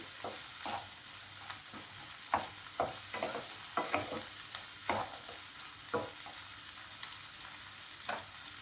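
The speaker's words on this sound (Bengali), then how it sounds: "এবার এর মধ্যে আমি কিছু কাজু অ্যাড করব। এটাকেও ভালো করে ভেজে নিতে হবে।" Cashews frying in a pan for egg do pyaza make a faint, steady sizzle, punctuated by distinct clicks and scrapes of a spatula stirring at an irregular pace.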